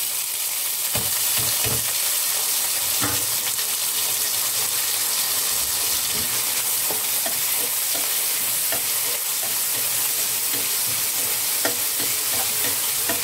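Chopped onions with green chilli, cumin seeds and two or three garlic cloves frying in hot oil in a pan, a steady bright sizzle running throughout with scattered clicks and scrapes of stirring, no voices.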